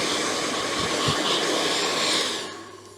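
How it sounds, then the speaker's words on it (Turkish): A hair dryer blows steadily while hair is being styled into an asymmetrical bob, a continuous close whooshing hiss that fades out near the end, with no talk over it. "Fönleyeceğim."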